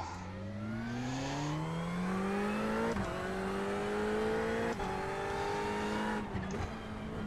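A Ferrari 488 race car engine in the iRacing video game at Tsukuba screams continuously, revving up through the gears with sharp shifts, loud and close throughout, with no talking.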